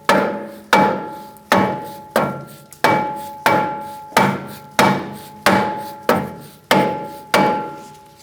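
A hammer taps repeatedly at the rear brake rotor of a 2008–2014 Mercedes-Benz C300 to loosen it from the hub. The strikes are sharp, metallic and evenly spaced, about eleven in steady rhythm, each ringing briefly and heard alone.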